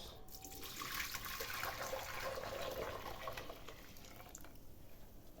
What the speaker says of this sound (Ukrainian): назад всипаємо в кастрюльку, точніше, вливаємо воду